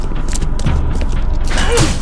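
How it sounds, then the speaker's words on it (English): A stuck door in The Sinking City video game rattles and creaks as it is tried, a loud, close mechanical groan with a rising creak near the end and no talking. "The door won't budge."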